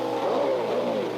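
A 1967 racing car at the Canadian Grand Prix drives into the pits, a steady droning engine with a slight rise and fall in pitch, moderately loud and held throughout.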